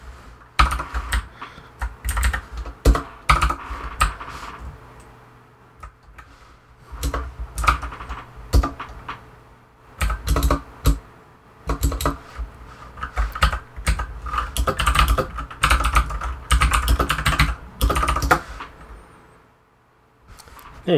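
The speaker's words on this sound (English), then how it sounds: "I forgot to put the two dashes in there as I'm typing it." Commands typed on a computer keyboard to set up a Raspberry Pi, close and clear, with uneven runs of rapid keystrokes broken by short pauses.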